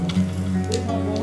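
Thekua dough pieces fry in hot oil with a soft, continuous sizzle and crackle over a brief moment, close by.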